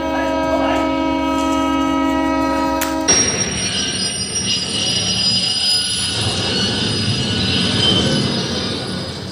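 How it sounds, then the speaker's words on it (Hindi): A train passes through a railway station, a long horn blast giving way to loud rumbling wagons and a high, steady wheel squeal that continue close by. "अरे इसको रेलगाड़ी की आवाज नहीं आ रही है क्या?"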